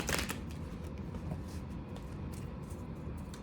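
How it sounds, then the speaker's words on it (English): Rider tarot cards being shuffled, giving soft papery riffling and brushing that is quiet and close, with a brief flurry of crisp card slaps at the start and then a steady faint rustle. "And let's just shuffle the Rider."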